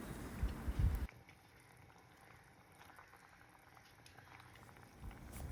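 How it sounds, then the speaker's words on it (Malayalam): Sardine curry broth boils in a pot: a faint, steady low bubbling with a louder stir of noise in the first second and again near the end. "ചാറ് നന്നായിട്ട് തിളച്ചിട്ടുണ്ട്"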